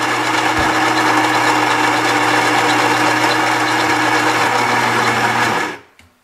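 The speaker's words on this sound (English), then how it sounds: "So first, grinding our beans." A Gaggia Brera super-automatic espresso machine grinds coffee beans, whirring steadily and loudly for several seconds with a constant mechanical buzz, then cuts off abruptly near the end.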